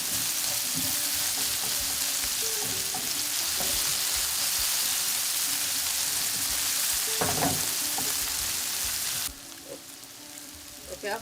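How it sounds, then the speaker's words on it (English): Mushrooms fry with chopped onions in a pan, a continuous sizzle with a few utensil clinks and stirring knocks, before the hiss drops sharply near the end. "1 handful of mushroom, and let this cook for a few minutes."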